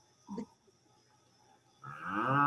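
Cows on a farm low out, a short grunt-like moo first, then a long, rising, loud bellow that swells at the end, with no talk over it.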